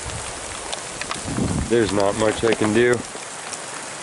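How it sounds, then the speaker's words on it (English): Hail falling on a mountain road makes a steady, dense patter across the whole clip, with a person talking over it in the middle. "It's hail. It's hailing on us."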